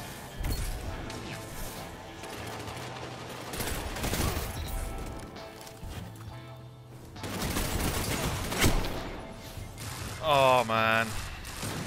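Machine gun fire in Destiny 2, heard as bursts of rapid shots among other game effects, with a voice speaking briefly and a chiming tone near the end.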